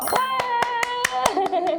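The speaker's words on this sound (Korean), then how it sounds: "여러분 박수로 맞아주세요" Audience applause welcoming a guest onto a Korean education talk show, heard as about eight sharp, evenly spaced hand claps over a sustained tone, closely miked.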